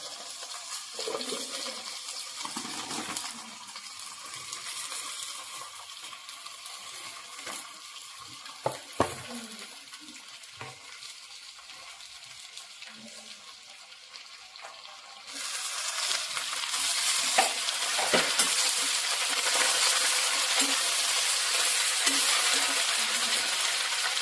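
Gongura (sorrel) leaves fry in hot oil while being stirred in a pan, a close, continuous sizzle with scraping stirs that grows louder and more hissing partway through.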